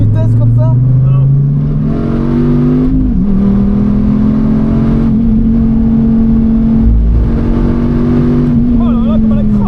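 Dodge Viper GTSR engine roaring loud and close at a drift day, its pitch rising and dropping with downshifts and throttle blips, while people talk excitedly over it.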